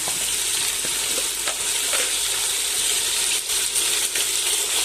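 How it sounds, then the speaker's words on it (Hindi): Beef paya fries in a pan with a loud, steady hiss, broken by occasional metallic scrapes and clinks of stirring, no voices. "अब इसको 1 से 2 मिनट फ्राई करेंगे इस तरह"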